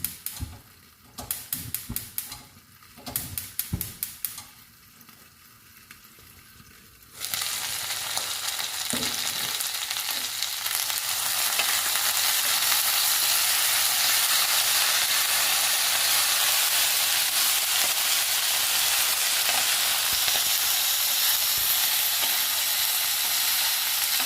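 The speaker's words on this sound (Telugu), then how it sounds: "దొండకాయ ముక్కల్ని, పచ్చిమిర్చిని వేయించుకుందాము." Ivy gourd pieces and green chilies fry in a pan, with a few clinks of tools at first, then a loud, steady sizzle that fills the remainder, close and without talk.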